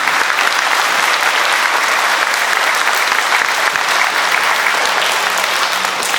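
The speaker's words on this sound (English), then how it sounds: "one more round of applause for everybody who shared their talents with us today" Dense, sustained applause from a school audience at a 2022 Veterans Day program in a gym, steady and loud throughout with no voices standing out.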